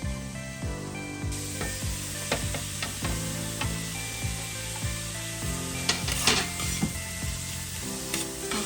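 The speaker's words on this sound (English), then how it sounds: "we'll need to get the onion a little bit cooked, soft and yellow" Onion fries in a Dutch oven while being stirred for chicken rice, a steady close sizzle under repeated rhythmic wooden scraping strokes against the pot, with no voices.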